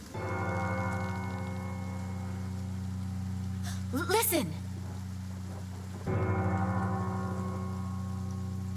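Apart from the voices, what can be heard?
church bell tolling in the video game Pillars of Eternity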